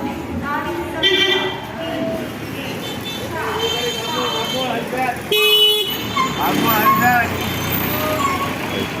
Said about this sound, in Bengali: বাস এসে দাঁড়ালো একটা